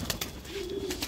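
A domestic pigeon coos close by, one low, steady hum lasting about half a second, with a few sharp knocks and rustles around it.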